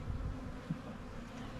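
Honey bees humming at an open beehive, a steady low buzz held close and fairly quiet throughout, with a couple of brief louder passes as individual bees fly near.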